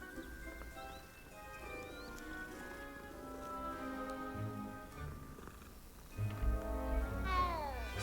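A cat in the video game Hogwarts Legacy meows and purrs at moderate volume over a soft, tonal game music bed, with a rising tonal sweep near the end.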